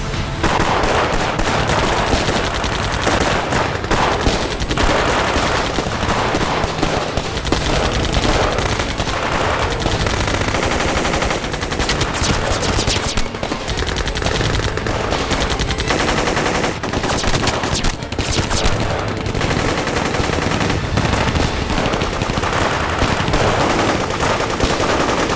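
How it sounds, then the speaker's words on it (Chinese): Sustained machine-gun and rifle fire aimed at aircraft in a war drama battle scene, a loud, dense, continuous barrage of rapid bursts with no letup for the whole stretch. "对空射击！"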